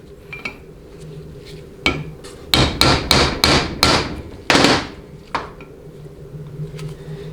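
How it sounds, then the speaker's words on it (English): A hammer strikes a blunt chisel to stake parts of a Chrysler Jeep A904/A998 automatic transmission, giving a close run of about eight sharp metallic taps, mostly in a quick burst, with a few lighter taps before and after. "Just take a blunt chisel and stake it."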